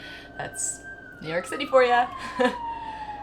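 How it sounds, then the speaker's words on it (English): A siren wails steadily outside on a New York City street, a long, drawn-out tone running the whole time beneath a person speaking nearby. "sorry if you can hear the sirens outside"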